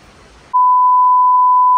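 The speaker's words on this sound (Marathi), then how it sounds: "मला बीप करावं लागेल हे सगळं" A loud, steady electronic censor bleep cuts in abruptly after half a second of muffled speech and holds unbroken for over a second, fully covering the talk.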